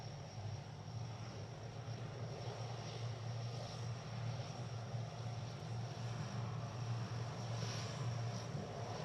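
Military aircraft on final approach to land at an RAF Waddington airshow, a steady, continuous engine drone with a low hum, held at an even, moderate distance for the whole stretch with no talk over it.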